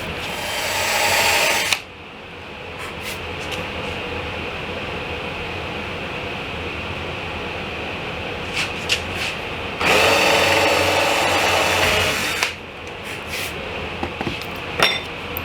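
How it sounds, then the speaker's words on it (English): A power drill whines loudly in two bursts of a few seconds each, boring holes in wood for nightstand drawer pulls, with handling clatter and workshop noise in between; no one speaks. "start drilling the holes"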